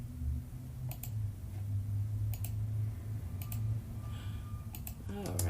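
Mouse or keyboard clicks from someone editing a podcast at a computer, sharp isolated taps scattered every second or so over a steady low hum, with a brief voice near the end.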